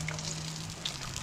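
Potato chips deep frying in slightly too-warm oil, a soft continuous bubbling sizzle with faint crackles, steady and close.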